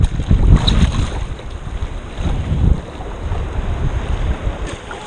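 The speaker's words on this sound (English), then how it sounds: "I rode that wave." Ocean surf and rushing water around a paddleboard riding a wave off Pensacola, Florida, with heavy wind buffeting the microphone throughout and low rumbling surges of water, no voices.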